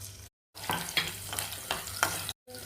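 Dried red chillies and onion paste fry in hot oil for a ridge gourd chutney tempering, giving a steady crackling sizzle with stirring scrapes and a few brief drops into silence.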